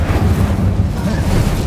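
A fire spell cast in the video game Hogwarts Legacy during a fast spell-casting combat sequence, sounding as a dense, steady roar of low rumbling booms and whooshing blasts with no gaps.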